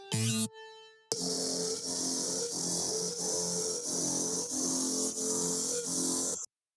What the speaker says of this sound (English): all together the basses kind of sound like this